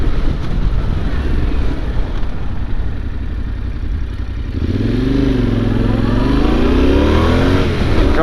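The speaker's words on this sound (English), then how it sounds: "that exhaust sounds so good" A car engine idles roughly, then its exhaust revs up loudly with a rising and falling growl, close by.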